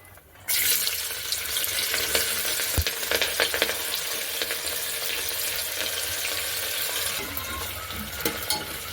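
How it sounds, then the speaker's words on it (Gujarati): Papdi flat beans tipped into hot oil seasoned with ajwain for Gujarati undhiyu burst into a loud, sudden sizzle, then settle into a steady, close, crackling fry with faint stirring. "અજમો એડ કરીને આપણે જે આ બધા પાપડીને તે લીધું હતું તે આપણે બધું જ એડ કરી દઈશું."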